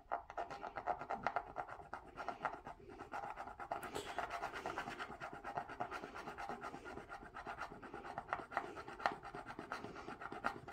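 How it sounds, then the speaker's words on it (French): A scratch card being scraped with a small improvised object: a steady, rough, continuous scratching texture that runs the whole time at a fairly low, close level, with no talking. "je cherche de quoi gratter la carte"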